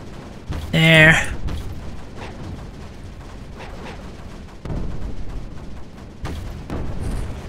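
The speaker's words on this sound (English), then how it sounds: "The explosions here shall go great. It triggers the turrets to be moving again." Explosions in Creeper World 4 set the turrets moving again: one sharp blast near the start, then scattered muffled booms and mechanical clatter, with a second burst late on. A voice talks over part of it.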